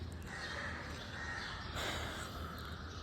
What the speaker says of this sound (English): there's something about hearing the birds chirp that really calms you down